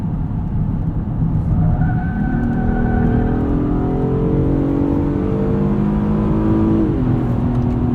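A 2018 Acura TLX A-Spec SH-AWD takes a corner under power, its engine note rising and shifting pitch steadily through the turn over constant road and tire roar heard from inside the cabin.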